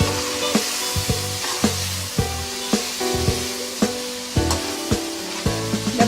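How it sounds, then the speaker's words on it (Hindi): Chicken biryani masala with tomatoes frying in a pan, a steady close sizzle broken by regular metallic scrapes and taps of a spoon stirring, with no voices. "अब हम इसको मज़ीद भूनेंगे"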